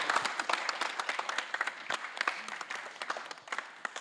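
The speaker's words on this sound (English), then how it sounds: "can you give a round of applause for all the youth" A round of applause for youth organizers of a program, many distinct claps crackling at a moderate, somewhat distant level, steady and uneven in rhythm with no talk over it.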